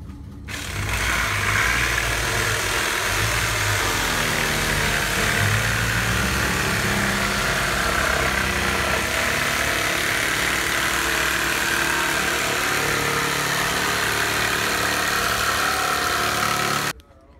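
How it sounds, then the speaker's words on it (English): Jigsaw cutting plywood boards for a rustic coffee table, a loud steady buzzing whine that runs continuously close up for about sixteen seconds and then stops abruptly. "we have our jigsaw set, and we're going to use the cutout plywood as our guide all the way around"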